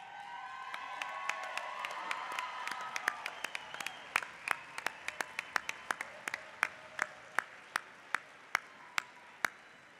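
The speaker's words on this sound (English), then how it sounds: "Stand right now and give them a round of applause." A crowd applauds at a university fall commencement ceremony, a steady wash of clapping that thins toward the end into a few sharp, spaced single claps close by.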